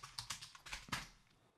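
Keys clatter on a computer keyboard in a quick run of about a dozen close, soft taps that trail off into quiet, with no voice.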